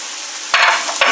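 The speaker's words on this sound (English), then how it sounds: "And just stir it up." Shredded Swiss cheese being stirred into a low-boiling sauce for tuna noodle casserole, giving soft scraping and wet churning bursts that start after a quiet moment and return briefly near the end, close and fairly loud.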